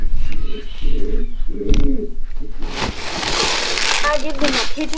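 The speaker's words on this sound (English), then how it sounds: "Then the powder pigeons are down there cooing." Pouter pigeons coo in a series of soft, rhythmic, throaty phrases close by, joined later by brighter chirps and rustling.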